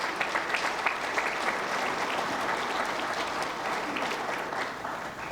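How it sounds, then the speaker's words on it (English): Audience applause at a Chamber of Commerce annual meeting dinner, a steady wash of many hands clapping together, sustained and fairly loud for about five seconds before easing slightly at the end. "let's have a round of applause for them."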